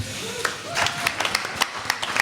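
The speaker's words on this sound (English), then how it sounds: "So give yourselves a round of applause." An audience gives scattered applause at a political talk on women's rights, a spread of individual hand claps of uneven rhythm with a crowd murmur running under them.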